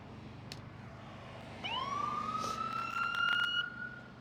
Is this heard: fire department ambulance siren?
yes